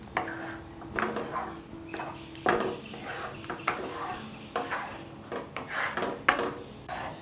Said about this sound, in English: Crush it well and mix the gravy now.